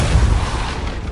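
A Depulso force spell cast in the Hogwarts Legacy video game, a loud, broad booming blast that rumbles and decays over about a second.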